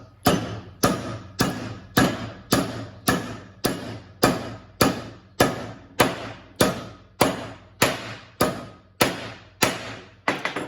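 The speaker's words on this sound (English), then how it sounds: "let me get a hammer and we'll finish it that way" Steady hammer blows strike a metal part on a Porsche 911 hot rod build, about sixteen sharp, evenly spaced impacts with short ringing decays, loud and close with no talk.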